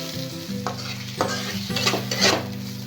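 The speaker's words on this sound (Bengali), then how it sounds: "বেশ কিছুক্ষণ ধরে আমি শাকটাকে ভাজতে থাকবো।" Greens (shak) fry in a pan while being stirred, giving a continuous sizzle with repeated scraping strokes of a utensil and a steady low hum underneath, close and moderately loud.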